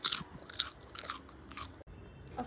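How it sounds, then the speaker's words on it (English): Crisp bites into a dosa dipped in chili oil, several close crunches and chewing sounds in quick succession, quiet and without talk. "Listen to the crunch."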